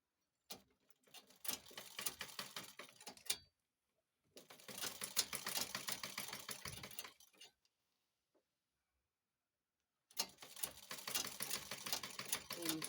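Sewing machine stitching a hoodie abaya gown, running in three steady, quiet bursts of rapid mechanical clatter separated by silent pauses.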